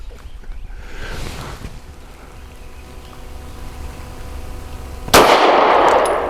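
A single sharp gunshot from a Taurus GX4 pistol firing a snappy load cracks loudly near the end, following a few seconds of quiet outdoor wind and background noise.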